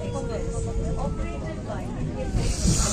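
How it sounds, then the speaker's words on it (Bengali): Heard from aboard a Vande Bharat Express, a freight train rolls past in a continuous low rumble and hiss, with a voice talking over it. "মালগাড়ি পাস হয়ে যাচ্ছে আজকে।"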